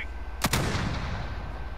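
Video game gunfire erupts around a player taking shots from behind: a couple of sharp, loud cracks close together, then a fading rumble of reverb under steady background noise.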